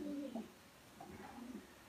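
A pigeon gives a few low coos, one clear call at the start and softer rolling coos later, faint and close in a quiet rural setting.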